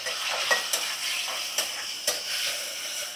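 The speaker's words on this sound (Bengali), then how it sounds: "তো আলুটা আমি ভেজে নেব প্রথমে" Potatoes seasoned with salt and turmeric sizzle steadily in a pan, with a few sharp clinks of a utensil stirring against the metal at close range.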